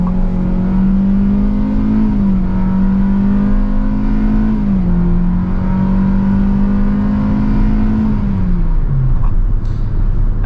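A 2022 Hyundai Venue Limited accelerates hard from inside the cabin, its engine note climbing steadily then dropping at each upshift, loud and continuous with no voices.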